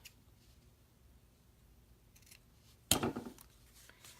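Scissors snip once, crisp and close, through the ribbon ends on a paper bookmark, then a short rustle fades against a quiet room.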